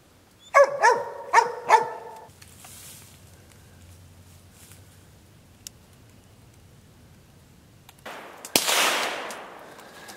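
While hunting squirrels outdoors, dogs bark four times in quick succession, then there is quiet. A single sharp gunshot follows, with a rustling, noisy tail after it.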